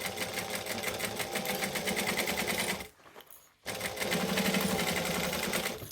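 A domestic sewing machine stitches the side panel onto a fabric saddlebag with a steady, loud mechanical whir. It stops briefly in the middle to reverse for a back stitch, then resumes at full speed.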